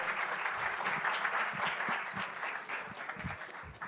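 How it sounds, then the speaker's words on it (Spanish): A conference audience at a blockchain talk applauds the speaker with even, continuous clapping, fairly soft and distant-sounding throughout. "Un aplauso, Alex, por favor."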